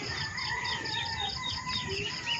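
Chickens and young chicks on a Filipino backyard farm around feeding time, a steady continuous chorus of high peeping chirps layered with clucking, close and constant throughout with no talking.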